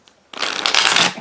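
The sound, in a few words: shuffling a tarot card deck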